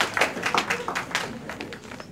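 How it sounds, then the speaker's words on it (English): Applause at a Manhattan community board general meeting for a member who just earned a master's in social work: a short round of scattered hand claps from a seated room, fairly faint and slightly uneven. "please give her a round of applause for that"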